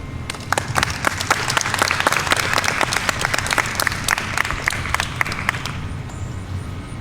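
Audience applause after a poem reading at a college poetry event, dense steady clapping from a sizeable crowd that holds for several seconds and then thins out toward the end.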